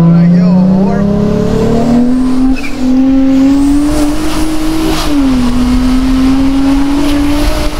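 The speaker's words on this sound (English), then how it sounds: "there's a nice sound, it almost sounds like a GTR" Modified Toyota Mark X engine revving loud and close, a steady rising drone that climbs, dips briefly and climbs again, with people talking over it.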